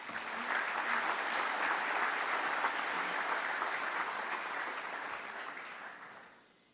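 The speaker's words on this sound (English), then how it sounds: "let us all together applause to welcome them in those responsibilities" Delegates at an FAO meeting applaud newly nominated members, a full, even round of clapping from a large audience that holds steady for several seconds, then fades out at the end.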